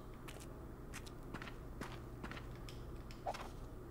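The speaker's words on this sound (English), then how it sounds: "But my footsteps" Footsteps in the horror game Daylight, a faint series of soft, irregular steps over a quiet, hollow background hum.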